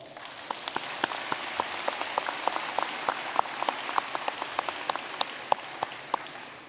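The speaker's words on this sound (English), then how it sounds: "take a moment to give yourselves a well-deserved round of applause" Scattered, fairly quiet applause from a new student convocation audience, a steady patter of claps with some sharper individual hand claps standing out.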